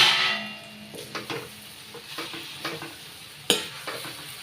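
Prawns sizzle and fry in a pan as the lid is lifted off, a steady close hiss with scattered stirring scrapes and a brief metallic clatter from the lid near the end.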